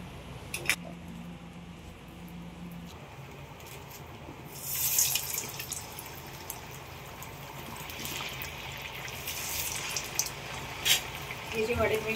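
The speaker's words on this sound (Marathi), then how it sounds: "आपण खरपूस असे दोन्ही बाजूनी तळून घेऊया वडे" Chicken vade deep-frying in hot oil in a home kitchen, a steady soft sizzle and crackle running throughout, with clinks of utensils and brief brighter bursts of bubbling as the puffed dough fries on both sides.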